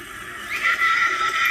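A horse whinnies in a Game of Thrones battle scene, season 5 episode 9, a single drawn-out shrill neigh rising partway through and holding steady, fairly close and alone with no talk.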